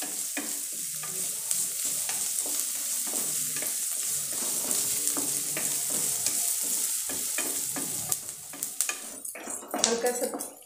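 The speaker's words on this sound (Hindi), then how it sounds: "बारीक कटा हुआ प्याज डाल देंगे, इसको फ्राई कर लेंगे हल्का सा।" Finely chopped onion fries in a pan for poha, a continuous sizzle broken by scraping spoon strokes and occasional clinks against the pan, growing more clattery near the end.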